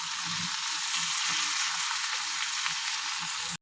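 A spice paste frying in a pan, giving a steady, moderately loud sizzle with faint stirring and scraping underneath.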